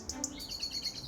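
Birds chirp and tweet outdoors on a pig farm, with several short high calls close together over a soft steady background, no voices.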